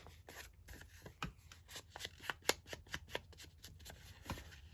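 Paper edges are dabbed and rubbed with an ink pad while making a doily pocket, giving faint, soft, quick repeated scuffs and pats close by.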